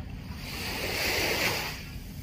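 Sea waves at Manila Bay wash steadily toward shore, a broad rushing surf that swells louder mid-way and eases off again, with some wind buffeting the microphone and no voices.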